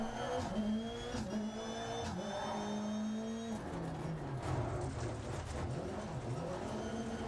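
A Rallycross car in the racing game DiRT Rally 2.0 roars steadily, its engine note rising and falling through gear changes and revs, loud and close with no talk.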